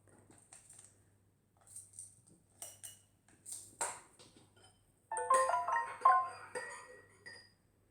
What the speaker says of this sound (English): why's my phone going off?